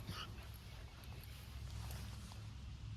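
A dog whimpers softly in a few short, high yips over a quiet, low background hum, faint and close.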